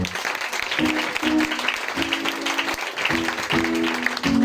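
A church congregation acclaims the Lord during a Sunday service. Clapping and cheering run throughout, mixed with sung or shouted voices.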